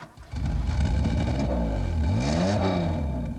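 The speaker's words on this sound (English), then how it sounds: "It ticks over like no car I've ever known." A Toyota 2000GT sports car engine idles steadily nearby with a throaty, burbling tone, slightly revving and settling, loud and continuous with no talking.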